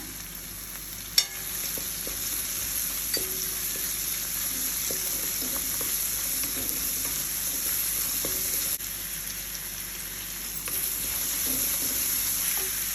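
Ginger garlic paste sizzles with capsicum and other vegetables in a hot pan for veg noodles, a steady frying hiss throughout with a few light clinks of stirring and no talk.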